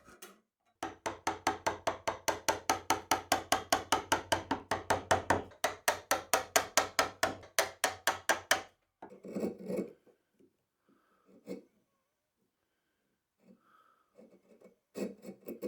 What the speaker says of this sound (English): it wouldn't be a hand tool project for me unless I break out the hacksaw